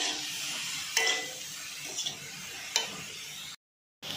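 Shredded cabbage and sweet corn stirred in a pan: a soft, steady frying hiss with three or four brief scraping clacks of a spatula against the metal, quiet and close, ending in a short gap of silence.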